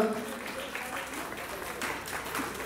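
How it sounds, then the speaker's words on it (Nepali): Audience applause fills a hall at the Hong Kong premiere of the Gurung culture film Dhyangro. It is a steady, dense clapping that holds at an even level throughout, with a faint tonal sound beneath it. "एकपटक बहिनीको नाममा सबैजनाले जोरदार ताली लगाइदिनु होला"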